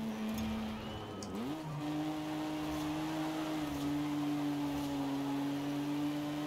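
Sideways drifting of a car in the Forza Horizon 5 racing game, with a steady engine drone whose pitch dips and then holds a sustained tone as the tyres slide, loud and continuous with no talking.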